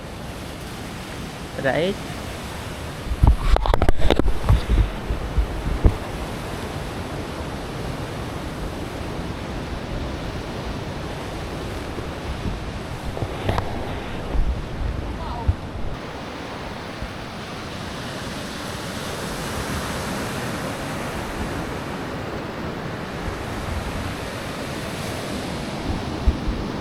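Ocean surf rolls in continuously at Half Moon Beach near Gokarna, a loud broad wash of breaking waves mixed with wind buffeting the microphone. A few brief words and bumps come near the start.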